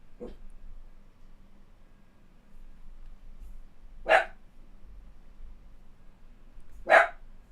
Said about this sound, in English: These two play like nonstop, but they're so barky when they play.